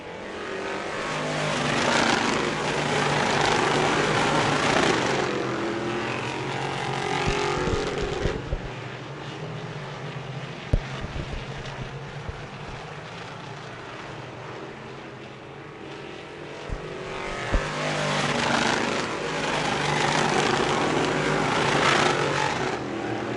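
Sportsman heat race cars on a track roar past in waves, engine noise swelling and fading as packs pass nearby, with quieter gaps and sharp pops in between.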